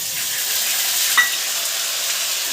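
Ginger garlic paste hits reddened fried onions in a hot pan, a sustained bright sizzling hiss with one brief clink, close and fairly loud.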